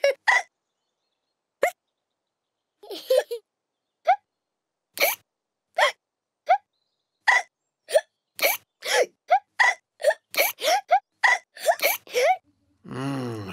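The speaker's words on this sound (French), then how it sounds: "Ce hoquet devient incontrôlable." A cartoon earthworm hiccups again and again, sharp squeaky bursts separated by pauses that come faster and more frantic toward the end, with silence between them.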